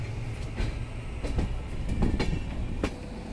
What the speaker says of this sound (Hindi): ट्रेन हमारी पहुंच चुकी है बनारस कैंट रेलवे